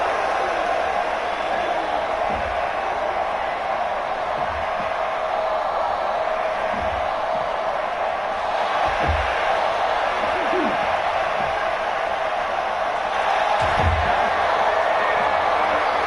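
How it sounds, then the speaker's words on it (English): Virtual arena crowd in the wrestling video game WWE 2K17 roars continuously, a broad steady wash of cheering punctuated by occasional heavy thuds from the ring, with a commentator talking over it. "The Market Square Arena crowd on its feet for this one."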